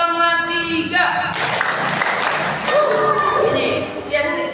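Children clapping the rhythmic 'tepuk semangat' clap, a burst of loud group clapping mixed with voices, close and dense, that starts after a spoken lead-in and fades back toward talk.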